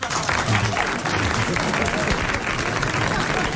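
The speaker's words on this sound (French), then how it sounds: "tout de suite vos applaudissements" A studio audience on a 1981 French television show gives sustained, dense applause, loud and even throughout, with no break in the clapping.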